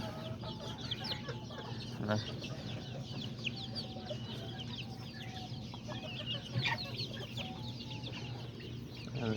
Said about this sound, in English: that's one of the dad roosters